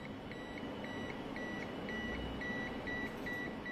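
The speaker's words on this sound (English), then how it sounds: "the beep gets stronger as I go close" Faint, evenly spaced high beeps from a voltage-detecting multimeter near a 9V mini Tesla coil repeat rapidly over a steady background hiss, about four per second, with no talking.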